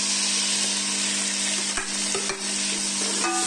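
Chilies and tomatoes hit browned onions frying in a pan, giving a steady, loud sizzle while a spoon stirs and scrapes a few times.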